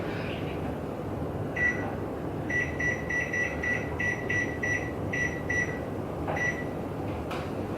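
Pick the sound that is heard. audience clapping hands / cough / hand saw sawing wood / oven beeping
oven beeping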